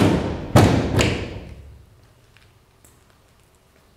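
A 2023 Ford F-250 Super Duty tailgate swings open with a couple of heavy, close thuds and a metallic clunk, then settles into quiet with a few faint clicks.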